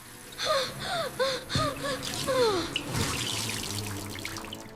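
Water running from a tap with a string of close, resonant plinking drips in quick succession, then a softer steady trickle fading underneath.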